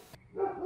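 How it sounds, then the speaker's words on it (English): A Cane Corso gives a short, deep bark or two, close and fairly loud, with no talking. "let's check out their bark, as you would assume that it's equally as fearful"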